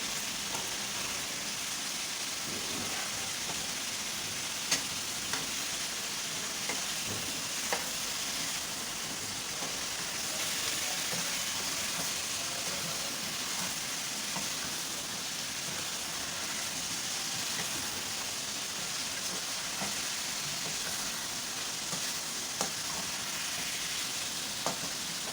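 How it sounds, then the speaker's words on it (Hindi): Garlic-ginger paste, two tablespoons, fries in a pan with a steady, dense sizzle and occasional faint clicks of stirring, continuous and fairly close with no talking. "अब ये 2 टेबल स्पून हम लहसुन अदरक का पेस्ट डालते हैं। इसको थोड़ा पकाते हैं।"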